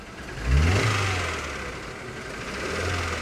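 A car engine with a misfire is started and revved once sharply near the start, then settles into a lumpy, uneven idle that swells slightly again toward the end, close and fairly loud, with no talking.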